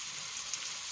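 Seafood paella is stirred in a pan, with a soft, steady sizzle and a couple of brief scraping clicks near the end, faint and without talk.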